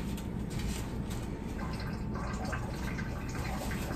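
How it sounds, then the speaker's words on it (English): Steady running water from a tap pours continuously through the whole stretch, with faint splashing and dripping as hands are washed in a home kitchen during biscuit pinwheel baking. "I'm just gonna wash my hands."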